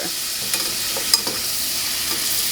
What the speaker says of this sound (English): with a whisk, I'm going to mix the flour into it